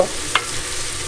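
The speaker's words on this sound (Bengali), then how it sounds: "নেড়ে চেড়ে পেঁয়াজগুলোকে ভেজে নেব।" Chopped onions stir-fried in oil for a hilsa fish dopeyaza, with a soft steady sizzle and one brief scrape of the spoon near the start.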